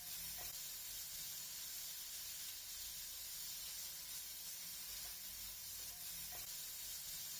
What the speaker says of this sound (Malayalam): സവാളയൊക്കെ അത്യാവശ്യം നന്നായിട്ടൊന്ന് വഴണ്ടി വന്നിട്ടുണ്ട്